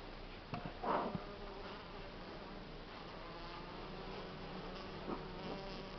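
A steady, low buzz of many Buckfast honeybees in a hive hums continuously, close by, in February frost at -6 degrees, with a few faint knocks and rustles.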